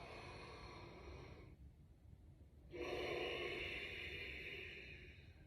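Deep yoga breathing heard up close: a long breathy exhale fades to a short quiet pause, then a strong, full inhale rushes in and slowly tapers off.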